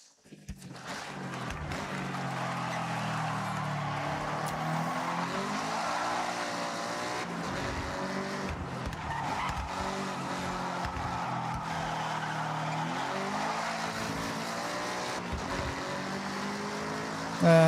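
Cars in the Forza Horizon racing game brake hard with skidding, squealing tires over steady engine roar, a continuous dense racing soundscape throughout with a louder burst at the very end.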